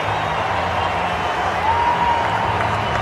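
A large cricket stadium crowd at the Bullring applauds a one-day international century, broad clapping and cheering from far off forming a steady wash of sound.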